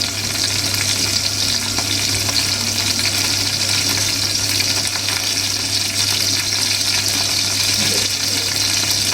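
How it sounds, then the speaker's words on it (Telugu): Cumin seeds, two green chillies and curry leaves fry in hot oil with a steady, dense crackling sizzle that stays loud and even throughout, with no talking over it. "కరివేపాకు వేసుకొని బాగా వేగనివ్వాలి."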